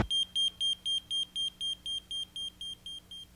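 A pager beeps in a steady, rapid series of about a dozen short, identical high electronic tones, evenly spaced and close, with a faint low hum underneath and no voices.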